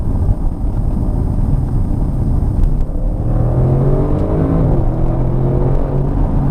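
An Audi RS6 engine rumbles close by, then revs up with a rising, throaty growl over wind noise.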